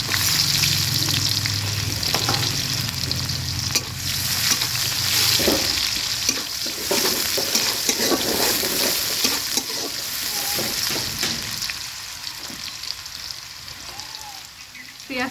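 Onions hitting hot oil for a curry tempering, a loud, continuous crackling sizzle up close, with stirring scrapes and clatter, and a low hum in the first few seconds that then stops.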